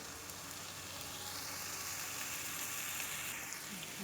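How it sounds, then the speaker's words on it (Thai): Coconut milk sizzling in a hot pan while making pink stir-fried rice noodles, a steady, fairly soft crackling hiss that holds evenly throughout with no talking. "อ่าเดี๋ยวก่อนอื่นเราตั้งกระทะให้ร้อน แล้วเราก็ใส่กะทิลงไปก่อนครับ"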